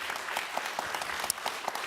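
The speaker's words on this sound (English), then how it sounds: "Please hold your applause." Audience at a Thousand Oaks city council meeting applauds steadily, a dense even patter of many hands clapping throughout, moderately loud and without speech.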